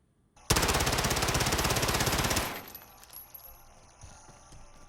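A rapid automatic weapon burst in the video game Modern Warfare, a loud dense rattle of shots lasting about two seconds, then cutting off into quieter game ambience.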